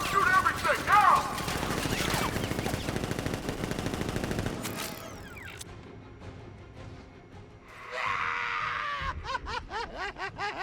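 Automatic gunfire in the Batman Arkham Knight video game, with rapid bursts of shots and chaotic action sounds, including laughter or voices, dropping to a quieter stretch before another crackling burst near the end.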